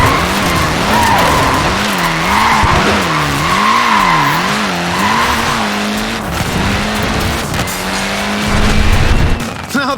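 Engine revving and tyres squealing on a Mini in the Forza Horizon 4 racing game, with a wavering, sustained skid screech over a loud engine drone that rises and falls.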